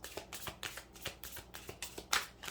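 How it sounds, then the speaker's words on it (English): An automatic card-dealing machine pushes out two cards, a run of soft, papery flicks and mechanical whirs close by, with one sharper swish near the end. "Please spit out 2 cards."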